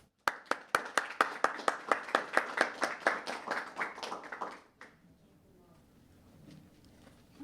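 An audience applauds a guest speaker, Dr. C. Christine Fair, at a lecture event: a smallish crowd clapping in steady, distinct claps for about four seconds before it fades into quiet room noise.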